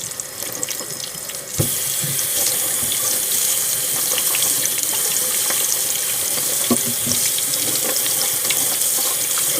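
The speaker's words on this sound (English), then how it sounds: "I'm wetting it under the faucet in the sink." Kitchen faucet running steadily into a sink while rice paper is wetted under the stream, a continuous close splashing hiss that starts abruptly and holds without pause.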